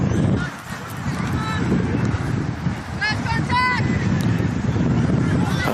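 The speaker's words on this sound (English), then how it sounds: "There's a little bit of breeze, as you can hear in our effects microphone, just gusting in and out" Breeze gusts across an effects microphone at a women's qualifying-final football match, a broad steady rumble that rises and falls, with someone commentating over it and faint whistles or calls in the distance.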